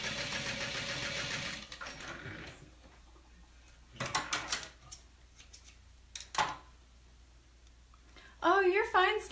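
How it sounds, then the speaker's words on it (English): A sewing machine runs steadily while top stitching both sides of a small fabric pouch at a long stitch length. It starts loud and fades out after about two seconds. A few clicks and handling noises follow, and there are brief bursts near the end. "I'm gonna top stitch down both sides"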